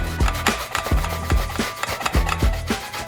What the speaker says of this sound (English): So I'm gonna make a fine grating here, which will take off some of the brown.